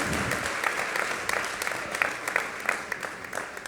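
Audience applause at a concert, a steady patter of many hands clapping at moderate distance, fading slightly toward the end.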